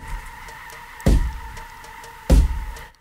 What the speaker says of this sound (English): Oh, here we go with the hammer.